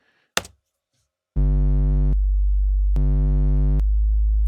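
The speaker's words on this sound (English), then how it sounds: "So it's basically a sine wave, yes?" A sine wave oscillator in Bitwig plays with the filter switched off, a loud steady low tone with a buzzy edge that sustains for seconds, briefly changing pitch, after a short click at the start.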